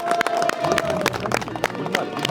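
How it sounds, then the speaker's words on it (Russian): Audience applause at an outdoor community event in the village of Dautovo, Abzelilovsky district: dense, steady clapping from a crowd with murmuring voices mixed in, sustained throughout. "Аплодисменты, друзья, аплодисменты."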